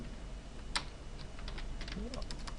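Keys on a computer keyboard click as an address is typed into point-of-sale software, a few scattered taps followed by a quicker run, faint and close, with a brief murmur of voice partway through.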